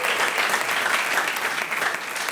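An audience at a comedy show applauds together, a dense, loud and continuous wash of clapping from many hands that fills the whole moment without any talk.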